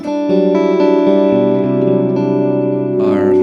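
Electric guitar solo played through a low-mid boost pedal, with sustained bright harmonic notes, quick note changes and a shimmering reverb tail, loud and steady throughout.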